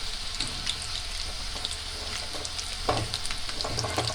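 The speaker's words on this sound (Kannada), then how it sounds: "ಕಬಾಬ್ನ ಚೆನ್ನಾಗಿ ಫ್ರೈ ಆಗ್ತಾವಂದರೆ ಕ್ರಿಸ್ಪಿಯಾಗಿ ಬರ್ತವೆ" Homemade chicken kebabs frying in oil over a low flame, a continuous close sizzle with scattered pops and crackles that briefly grows louder near the end, no speech.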